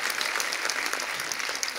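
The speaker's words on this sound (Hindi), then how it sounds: "तो जोरदार तालियां नारायण फैमिली के लिए।" The studio audience of The Kapil Sharma Show applauds, a dense, steady burst of many hands clapping that sounds fairly close and continuous.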